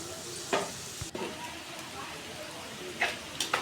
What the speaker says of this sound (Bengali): এদিকে আমরা নিমকিগুলোকে ভেজে নিচ্ছি, একটু সময় লাগবে।